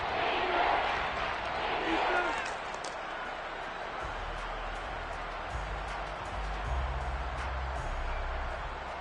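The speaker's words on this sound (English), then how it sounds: "That just means this crowd's going to get even louder" A football stadium crowd at a Saints vs Rams game roars in a broad, steady wash of noise that swells and holds, heard from a distance beneath a commentator's talk.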